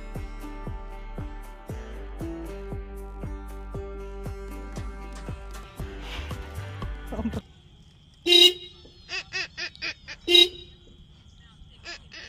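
Several short car horn honks sound in quick bursts after a stretch of music, loud and close, with a pause between groups of toots.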